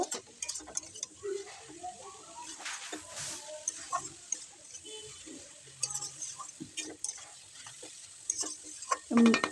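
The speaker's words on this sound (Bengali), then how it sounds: "এবার এটা হওয়া পর্যন্ত আমি ভালো করে নাড়িয়ে যাব" Grated beetroot with chilli powder, sugar and salt is stirred in a kadai, giving quiet scraping and soft clicking spoon strokes against the pan over a faint sizzle, close and intermittent.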